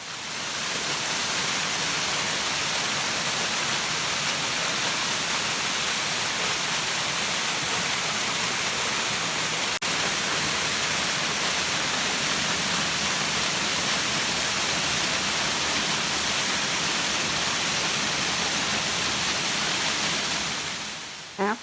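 Rushing water of the waterfalls at Flume Gorge in Franconia Notch, New Hampshire: a loud, steady, broadband roar that continues without a break and with no voices.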